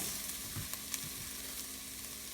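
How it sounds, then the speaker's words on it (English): Soup ingredients sizzle steadily in a pot while being stirred, a constant close frying hiss broken by soft scraping and a few light clinks of the spoon, with no talking. "So I've been stirring this for about a minute."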